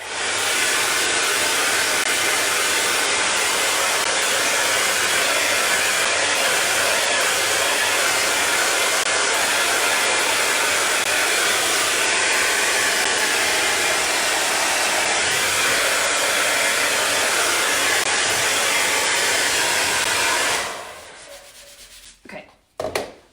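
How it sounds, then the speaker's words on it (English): A hair dryer blows steadily on wet paint for a buffalo plaid design, a loud continuous close whoosh for about twenty seconds before it switches off and fades, with no talk. "So now what I'm going to do is I'm going to dry this super quick."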